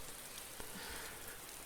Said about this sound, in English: Why are you just kind of chilling in the rain?